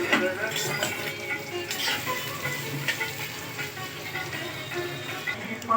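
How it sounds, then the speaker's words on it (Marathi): Onion fries in hot oil in a pan, a continuous close hiss with light crackle and occasional stirring scrapes, steady from start to finish. "कांदा थोडा आपल्याला फ्राय करून घ्यायचा आहे."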